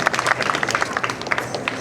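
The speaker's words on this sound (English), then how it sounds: "So a big, huge applause and a thank you to the HPR." Audience applause for the House of Pacific Relations at a House of Hungary gathering, a scattered patter of claps at moderate volume with no one speaking over it.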